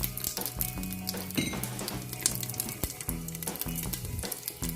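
Chinese sausage sizzles and crackles in hot oil in a home kitchen pan, a steady bright frying hiss punctuated by occasional stirring scrapes and light clinks of a utensil, close and clear with no talking.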